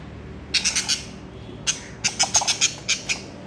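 Pet parakeet squawking indoors, a series of loud, sharp, close calls coming in bursts of several squawks with short pauses between them.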